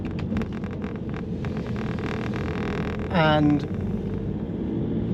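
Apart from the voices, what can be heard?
rattly PSA diesel engine of a Volvo S40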